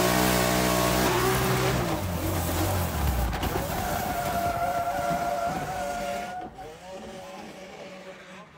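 Race cars launch from the start of a drag race, the engines roaring loud and close as they accelerate hard. The pitch climbs in sweeping rises, then the sound drops away abruptly and fades near the end.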